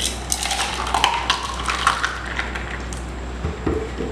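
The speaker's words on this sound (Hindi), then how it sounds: "इसमें उसको ये मसाला बटर मिल्क डाल देंगे" Masala buttermilk is poured into a glass over ice cubes, giving a brief wet splash with light clinks of ice and glass that fade to quiet near the end.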